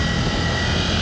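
A high-revving Ducati twin-cylinder motorcycle engine holds a loud, steady roar without letting up, close by and alone, with no voices.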